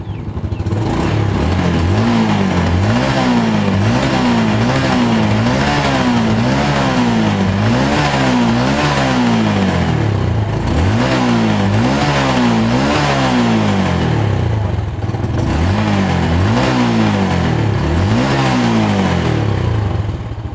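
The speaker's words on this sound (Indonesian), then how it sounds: "Oke, mesinnya sudah menyala ya." A Yamaha Jupiter Z1 fuel-injected motorcycle engine runs up close and loud, its revs swelling and falling in repeated wavering cycles over a steady idle throb.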